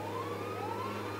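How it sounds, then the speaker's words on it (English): A police car siren from the video game GTA V wails with a rising, sweeping tone, loud and close, running steadily over a low engine rumble without any voices. "Oh, you're a police car."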